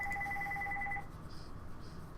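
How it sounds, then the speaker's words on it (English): A telephone rings with a steady electronic warble lasting about a second and then stops, heard in a quiet room during a Creativerse gaming session. "If this phone ever stops ringing."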